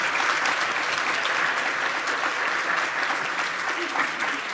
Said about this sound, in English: Let's give another round of applause to our moderator, Shannon Sims, our presenter, John Johnson.